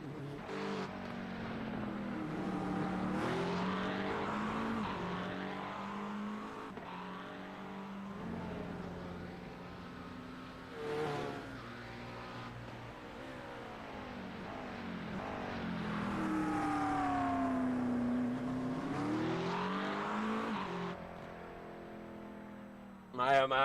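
GT3 race cars rolling through the circuit at Spa, engines droning and swelling as they pass, continuous and moderately loud under steady commentary.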